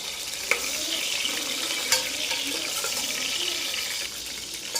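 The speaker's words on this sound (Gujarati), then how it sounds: "આપણે બનાવવાનું છે ગવાર બટાકાનું શાક એટલે આપણે થોડાક મરચાં ફ્રાય કરી લઈશું" Green chillies frying in hot oil for a guar and potato curry: a bright, hissing sizzle, close and steady, punctuated by a few sharp pops and spatters.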